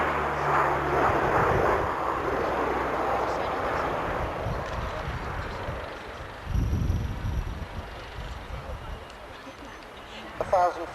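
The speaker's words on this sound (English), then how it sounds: "Speeding up, you can hear the engines winding up." Aircraft engines wind up as a plane accelerates at the Fairford airshow, making a broad, loud roar that swells and then fades somewhat, with a voice talking over it.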